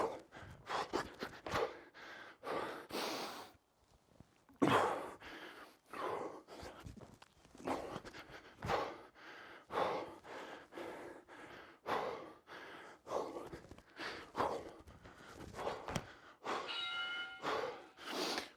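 Hard, ragged breathing and gasping after a bodyweight HIIT workout, close and loud, in uneven bursts of inhales and exhales with a few short pauses and no talking.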